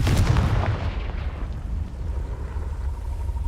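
Repeated Confringo fireball spell explosions in Hogwarts Legacy, loud and close, with heavy booming bursts early that roll off into a rumbling, crackling decay.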